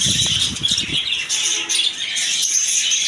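Budgerigars in a pet shop chirp in a dense, continuous high chatter, with a few low thumps or flutters near the start.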